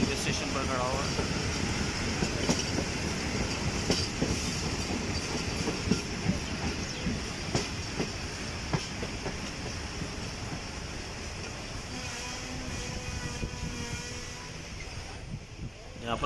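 The Awam Express pulls out of Bin Qasim railway station near Karachi in extreme heat, with a steady, loud rolling rumble and clattering wheels continuing throughout, and faint voices mixed in.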